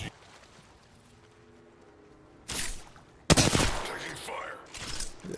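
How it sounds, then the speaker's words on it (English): Gunfire from Apex Legends gameplay: a quiet stretch, then two loud, sustained bursts of shooting near the end, the second louder and longer. "We're getting shot from across."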